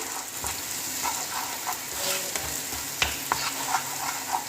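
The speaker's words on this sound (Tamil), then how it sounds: "இப்போ வந்து கிளறி விட்டுக்கலாம்" Kothu idli being stirred in a frying pan, a steady close sizzle broken by repeated scraping knocks of a spatula against the pan, with no talk.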